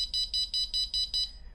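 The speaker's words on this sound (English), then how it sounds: "low short beeps" ColorAlti skydiving altimeter alarm sounding six low short beeps in an even, rapid rhythm, close and clear with nothing else around them.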